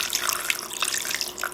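Water runs steadily from a kitchen tap into a bowl as wheat gluten dough is rinsed, a continuous close splashing hiss with no talking.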